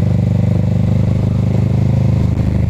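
Steady motorcycle engine drone heard from on board while riding along a coastal road, a continuous loud low hum with slight clatter and no pauses.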